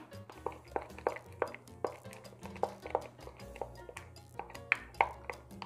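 Bread flour and milk whisked together into a roux in a bowl, giving a run of sharp utensil clinks and taps against the dish at an irregular beat, close and moderately loud, with no talking.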